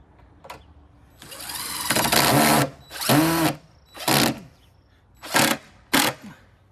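A Dewalt 20V cordless drill backs screws out of deck boards during a deck board replacement, with several loud close whirring bursts that rise and stop, separated by short pauses.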